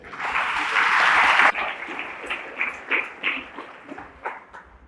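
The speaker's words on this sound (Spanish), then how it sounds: "Damos aplausos al Señor." A congregation at a Spanish-language church service claps for the Lord, first in a loud dense burst, then thinning into scattered, rhythmic individual claps that fade toward the end.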